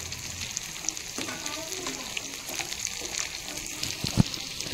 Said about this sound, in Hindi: अब इसमें दूध डालेंगे ताकि ये अच्छे से पक जाए